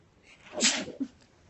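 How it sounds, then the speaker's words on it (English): A single close sneeze, a sharp breathy burst with a quick, smaller follow-up, then quiet. "pardon me, sneeze."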